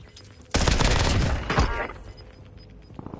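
A dense burst of rapid gunfire in the video game Call of Duty, loud and close, erupting suddenly and rattling for about a second before trailing off into quieter scattered shots.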